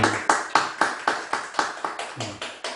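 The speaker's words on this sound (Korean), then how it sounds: "박수로 환영하겠습니다." A church congregation clapping in unison to welcome a first-time visitor during a Sunday worship service, about eleven sharp, evenly spaced claps in a steady rhythm, fairly close.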